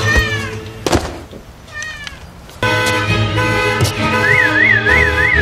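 A stray cat meows in a scene from the film American Psycho, with several short meows over the opening seconds, followed by a loud car alarm that sounds continuously with a rising and falling siren tone.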